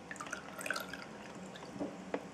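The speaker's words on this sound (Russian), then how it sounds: "Ну вот я заполняю емкость водой." Water trickles and drips into a container as it is filled halfway, faint and close, with scattered small splashes and a brief louder drip near the end, no talking.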